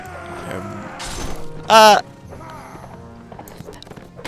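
Mace blow to a horse during a Mount and Blade Warband melee: one loud, sharp impact crack stands out over galloping hooves and battle noise, with a voice talking briefly.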